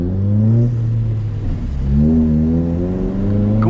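A Chevrolet Celta fitted with an aftermarket exhaust revs in close, loud bursts, the engine note rising and falling twice with a throaty rumble.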